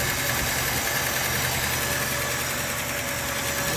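An old car engine with a new Napa battery, points and fuel pump idles with the choke on, a loud steady rumble with a faint rhythmic knock, close by.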